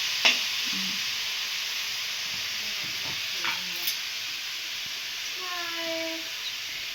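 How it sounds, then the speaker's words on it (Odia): Leafy greens fry in a pan, a steady hissing sizzle broken by scraping stir strokes and small clinks, with a brief squeaky sound toward the end. "ଶାଗ ଭଜା ହେଉଛି"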